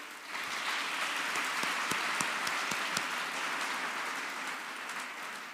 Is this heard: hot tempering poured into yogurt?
no